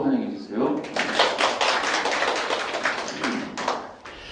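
A small audience at a Catholic ecology lecture claps to welcome the first lecturer, a short spell of dense, close hand claps with voices murmuring underneath.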